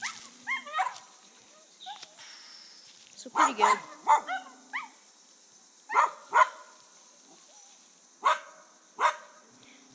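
Dogs in the woods give repeated sharp barks and yips in short bursts, with some whimpering between them, close and fairly loud under a little speech.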